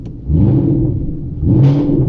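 Close, loud revving from the engine of a 2013 Ford Mustang GT, rising from idle in two brief pushes of the throttle, with no talk over it.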